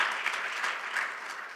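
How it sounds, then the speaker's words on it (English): Audience applause at a Special Olympics USA Games partner forum, a short, dense burst of clapping from a crowd at moderate volume. "Please, round of applause."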